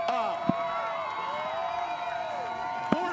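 Crowd cheering at a Whistler snowboard rail contest, a steady roar of voices and whoops with a commentator talking over it and two sharp thuds from board impacts.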